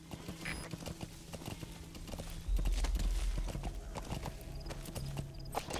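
Horse hooves clip-clop in a steady rhythm in the Metal Gear Solid V: The Phantom Pain video game, close and clear. A brief whinny comes in near the start, and the hooves grow heavier midway.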